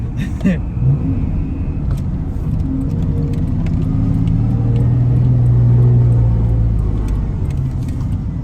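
A car engine rumbles steadily from inside the vehicle, its low drone rising and easing as the revs shift, with faint clicks and rattles along the way.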